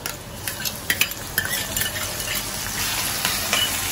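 Onion and tomato frying in oil in a pan: a steady sizzle runs under repeated scraping and clinking strokes of a spoon stirring, close up, with no talking.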